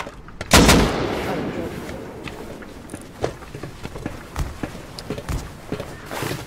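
Gunfire in a multiplayer PvP shooter game, a loud blast near the start followed by scattered sharp shots and thuds at moderate distance, with footstep-like sounds in between.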